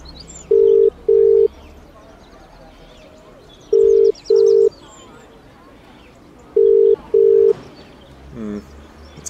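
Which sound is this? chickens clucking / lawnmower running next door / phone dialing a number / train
phone dialing a number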